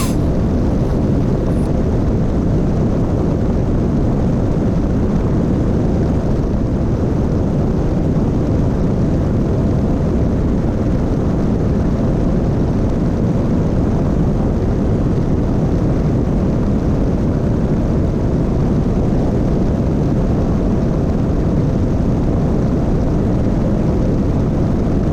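Steady, loud drone of a small propeller airplane heard from inside the cabin while cruising north over snow-covered mountain peaks near Mission Ridge, a continuous broadband engine roar throughout with no talking.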